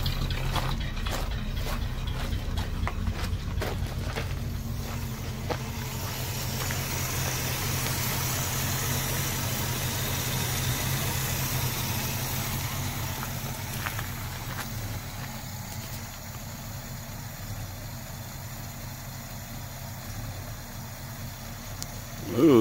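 A 1963 Cadillac Coupe DeVille V8 idles after ten years of sitting, a steady low rumble with a rough, uneven texture, heard up close near the exhaust for over twenty seconds.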